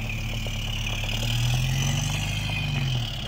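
A lifted truck with header exhaust, a Cowell Mini and brand new BFG tires rumbles steadily as it pulls away, a low droning engine note holding fairly loud and even for a few seconds before easing slightly at the end.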